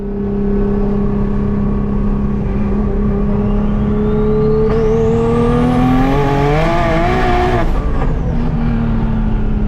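A big-turbo Nissan Z car accelerates hard on a street, its loud engine note climbing steadily through the gears with a rising whine and a sharp shift near the end, close by and constant throughout.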